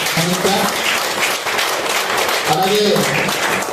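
An audience at a state committee election meeting of a bank gold appraisers' association in Vijayawada gives steady, continuous clapping, with a voice speaking over it.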